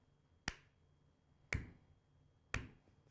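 Three sharp, isolated hand claps, spaced about a second apart, ring out close and crisp in a deliberate slow clap at the end of a comedy talk show segment, with quiet between each.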